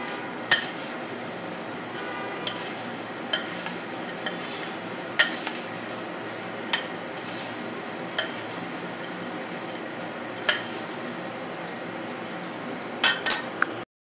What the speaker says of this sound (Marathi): आता हे सर्व मिक्स करून घेऊया।